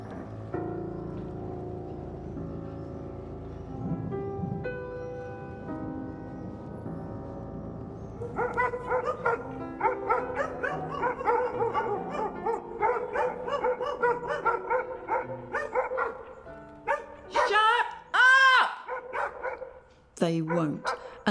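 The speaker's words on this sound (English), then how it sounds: "there's only so long you can ignore hungry, howling dogs" Hungry dogs barking, yipping and howling in a dark 2072 London street setting, a run of loud, close, irregular barks and whines over a low droning ambience, with speech nearby.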